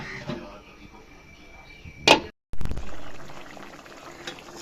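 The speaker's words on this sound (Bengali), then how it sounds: "ভালো করে বলক আসুক।" A pot of shrimp curry with potato, beans and radish bubbles at a steady boil, soft continuous gurgling with a sharp clatter as the lid is handled partway through.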